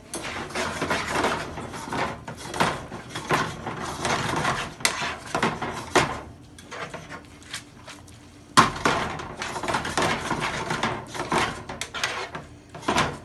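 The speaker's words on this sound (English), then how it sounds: "I'll transfer the wet, hot ingredients onto the bowls and then swirl it out" Hot, wet carbonara pasta is moved into bowls and swirled with utensils, making close clatters, scrapes and knocks of metal on ceramic in bursts, with a quiet lull in the middle.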